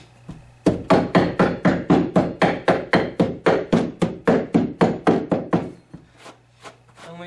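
A rapid, steady series of about twenty sharp knocks as carpet is tucked in against the baseboard during a bedroom carpet installation, loud and close, then stopping abruptly.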